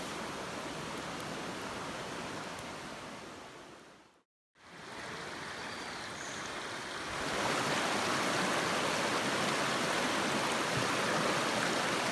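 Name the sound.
stream flowing beside a forest campsite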